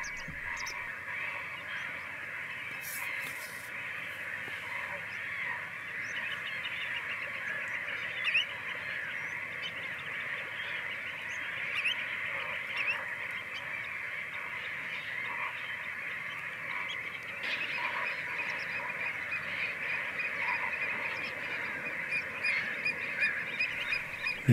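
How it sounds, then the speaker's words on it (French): Thousands of autumn birds on Lake Kerkini, mostly geese and other waterfowl, keep up a dense, continuous chorus of honking and calling at a moderate distance, with no voices. "Sur ce lac, en automne, il y a des milliers d'oiseaux."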